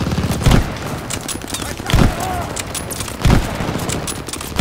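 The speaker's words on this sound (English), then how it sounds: "Why are they taking shots again?" Call of Duty Vanguard gunfire: three loud, evenly spaced shots crack out about every second and a half over a busy battle din, with voices talking underneath.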